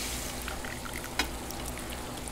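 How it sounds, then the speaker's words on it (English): Sausages sizzle in the Cooking Fever cooking game, a steady soft frying hiss with one brief click partway through, quiet and with no voices. "Get that sausage going."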